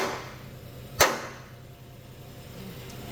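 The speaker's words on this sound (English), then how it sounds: "We'll just smack it with a hammer." A hammer gives one sharp, loud smack against a cut metal part during a frame swap on a hot rod hauler truck. The metallic strike rings briefly and then fades into quiet shop background.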